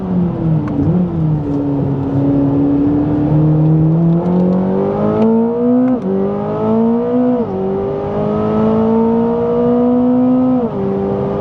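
A 2025 Chevrolet Corvette ZR1 driven hard around the Circuit of the Americas race track: a loud, close engine roar that climbs and drops through gear changes and hard braking, continuous throughout.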